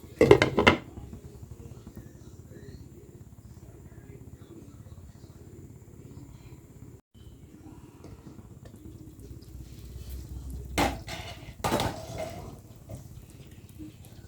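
A lid clatters onto a pot of sinigang in a home kitchen. A sharp metallic knock comes at the start and a few more clinks near the end, over a low simmering background.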